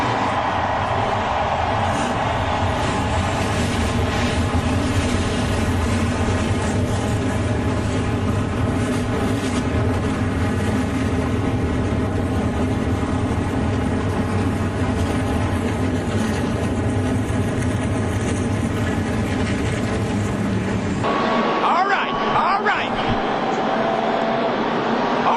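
NASCAR stock car engines fire up together before the 2007 Food City 500, a loud, dense, continuous roar that holds for about twenty seconds, then drops away sharply near the end.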